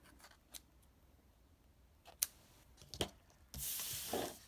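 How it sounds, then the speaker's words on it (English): Scissors snip excess paper off a handmade Easter card in a few quiet, close cuts, followed by a brief rustle of paper at the end. "Trim off the excess."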